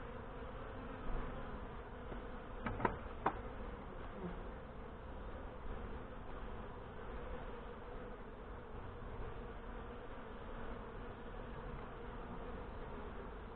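Honey bees buzz around an open hive during a June inspection of Hive 2, a steady, dense hum with a few brief louder clicks or knocks early on, close and continuous throughout.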